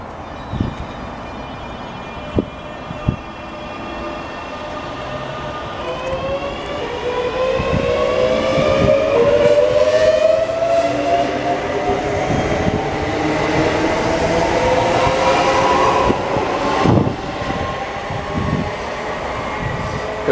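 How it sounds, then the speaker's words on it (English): Trains pass through Stevenage station on the East Coast Main Line, a steady loud rumble building and sustained with rising wheel and motor tones, a few sharp knocks near the start. "Today we are going to be doing trains at Stevanege or Stevenage"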